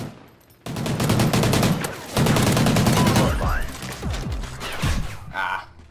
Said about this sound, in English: I didn't want to shoot that guy too much, but he was not budging.